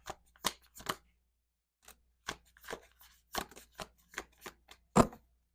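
Tarot cards are shuffled by hand in a series of short, crisp riffles and snaps, some grouped in quick bursts, with one brief pause in the middle, close and fairly quiet.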